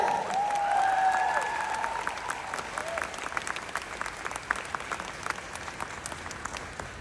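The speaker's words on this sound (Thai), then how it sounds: "ขอเสียงปรบมือกึกก้อง" Applause from a crowd at a Nu Skin Thailand stage event, opening under a cheering voice and then settling into a steady, moderately loud wash of many hands clapping that carries on alone.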